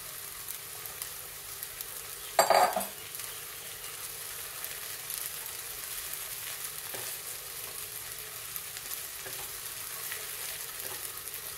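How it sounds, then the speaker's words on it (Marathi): Soaked sago is stirred into cooked potatoes frying in ghee for sabudana khichdi, giving a steady soft sizzle throughout with one brief louder scrape of stirring early on. "बटाटा शिजल्यानंतर आपण भिजवून घेतलेला साबुदाणा मिक्स करूया"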